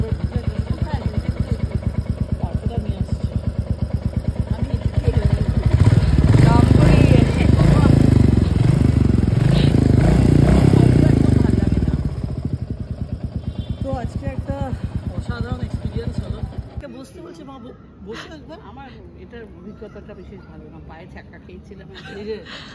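Royal Enfield motorcycle thumping along with a steady pulsing single-cylinder beat, louder for a stretch before settling to a lighter idle-like rhythm, then cutting off; people talk throughout.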